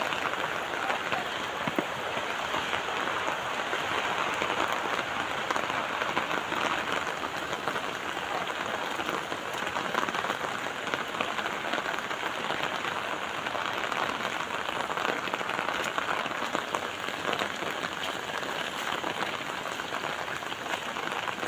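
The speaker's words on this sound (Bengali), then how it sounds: "বৃষ্টি লামছে বালা ঠিকই" Steady rain falls heavily and evenly all around, a dense continuous hiss and patter that never lets up, with no voices over it.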